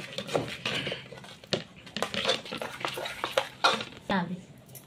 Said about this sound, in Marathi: आता मस्त आपण ह्याला या पळीच्या ह्याच्यानी असे घरटून घेऊया